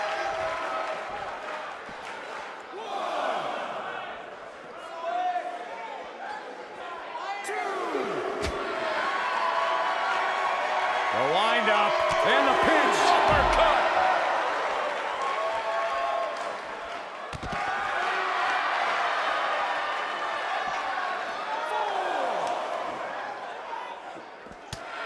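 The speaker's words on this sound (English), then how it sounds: "When you listen to this crowd, they're absolutely electric." Wrestling arena crowd in Los Angeles cheering and roaring in sustained loud waves, with whistles and scattered slams, while a commentator talks over much of it.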